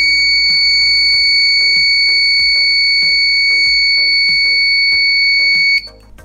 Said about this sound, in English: the red light glow and the buzzer makes sound